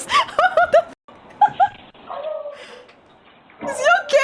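A dog barks and yips in short bursts, picked up by a doorbell camera at a house front entrance, with a quieter gap in between and voices mixed in.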